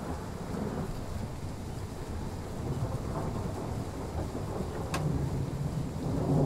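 Thunderstorm in Train Sim World 3, heard aboard a train: a continuous heavy rumble of thunder with a rain-like wash, steady and loud throughout and building slightly toward the end.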